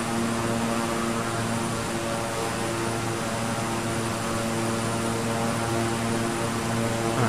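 Continuous cabin-style roar of a Beechcraft 350i King Air turboprop cruising in Microsoft Flight Simulator, loud and even with steady engine tones throughout and no talking.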